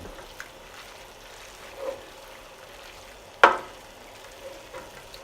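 Half a cup of diced onion stirred into a pan for Greek pastitsio, a faint low sizzle with a soft stir and one sharp clack of a utensil against the pan.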